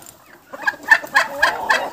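Farmyard chickens cluck close by, a rhythmic series of about five sharp clucks after a quiet start, alone without talk.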